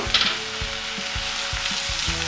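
Pepper, cinnamon sticks, cloves, roasted gram and ginger paste sizzle steadily in a hot pan for a chicken sambar masala, with a constant close frying hiss and a few faint stirring knocks.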